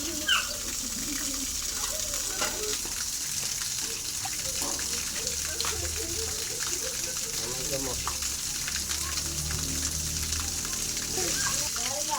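Water runs and gushes steadily close by throughout, with voices talking over it, during a trip to collect sasing by the sea.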